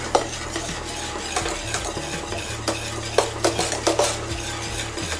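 A spoon works through thick white cheese sauce in a pan, its soft scraping and clinking strokes repeating in an uneven rhythm over a low, steady background hum, close and fairly quiet.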